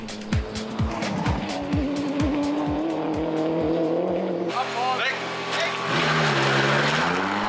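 Race cars at the Nürburgring 24 Hours endurance race roar past with rapid pitch-swept engine notes and tire squeal, one car after another, loud and continuous.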